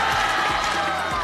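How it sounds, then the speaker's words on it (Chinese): Studio audience bursts into applause and cheering to welcome a guest on a Chinese TV makeover show, a dense, steady wash of clapping and crowd noise filling the whole short stretch. "大家掌声欢迎"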